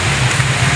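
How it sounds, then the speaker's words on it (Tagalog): Heavy rain pours in a dense, steady hiss with a low rumble beneath, loud and close, during an outdoor fishing outing. "Ayaw na talagang tumigil ng ulan."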